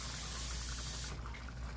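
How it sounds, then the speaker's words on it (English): Water from a tap runs steadily into a cooking pot for a seafood stew, a continuous close rushing fill that thins and softens partway through. "we're going to add some water"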